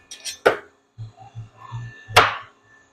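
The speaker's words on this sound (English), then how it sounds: "so we're chopping some white chocolates." A knife chops white chocolate on a board for gelato, giving a few sharp, close thwacks and some lighter knocks in between, without talk.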